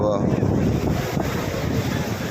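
Strong wind gusting over the sea at a fishing harbour, a steady loud roar with rumbling buffeting across the whole stretch, no voices.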